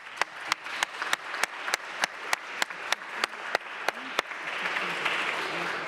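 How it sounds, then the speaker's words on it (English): At a Cleveland city council meeting, a round of applause comes as a steady series of evenly spaced sharp claps, close and crisp, before fading into low room murmur. "Let's give them a round of applause if we could."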